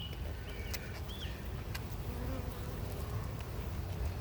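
Honey bees buzzing during a hive inspection: a dense, steady hum of many insects close by, with occasional sharper individual buzzes passing near.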